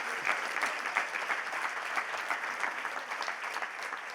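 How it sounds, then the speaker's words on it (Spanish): A church congregation applauds during a sermon with quick, lively clapping that is moderately soft and steady, with a few louder claps standing out. "Un aplauso a Jesucristo."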